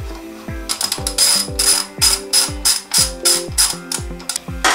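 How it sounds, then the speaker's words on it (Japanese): A ratchet wrench tightens a brake caliper bolt on a Yamaha Serow 225 front brake, producing loud, close, rapid bursts of metallic clicking in short repeated strokes, with no speech. "そしてさっき外したボルトを締めます。"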